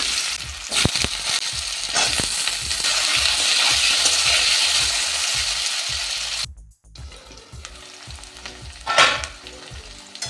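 Potatoes fry in hot mustard oil with nigella seeds, a loud steady sizzle with intermittent scraping stirs and a brief dip partway through.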